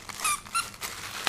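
A squeaky dog toy from a BarkBox gives a few short, high squeaks in quick, uneven bursts. The squeaks are fairly close, in an indoor room with no talking.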